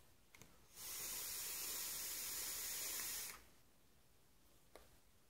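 A single long hissing draw, about two and a half seconds, pulled through a modified Silverplay rebuildable tank atomizer running at 25 watts. It is close and steady against a quiet background, with faint clicks before and after.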